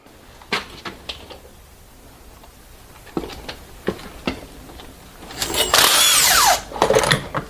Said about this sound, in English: now we're gonna undo these bell housing bolts over here